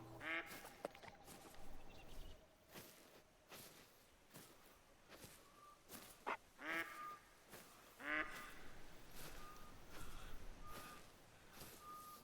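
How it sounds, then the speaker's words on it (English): Ducks in the hunting video game TheHunter: Call of the Wild quack repeatedly in short, nasal bursts at irregular intervals, moderately near, with faint ambient game sounds between calls and no talk. "The ducks quacking is bothering me."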